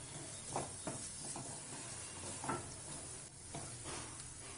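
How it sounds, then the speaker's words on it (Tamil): Tomatoes and shallots sauté in a pan for a kuzhambu, giving a soft, continuous sizzle with a few light scraping stirs. No one speaks. "இப்போ தக்காளி நல்லா வதங்கணும்"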